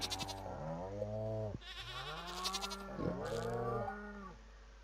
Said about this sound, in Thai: อ๋อผิดตัวอีกละไปโดนแกะ